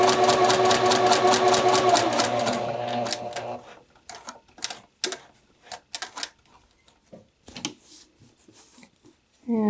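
A sewing machine stitches bound buttonholes in a rapid, steady run for about three seconds, then stops to scattered clicks and short bursts of needle action.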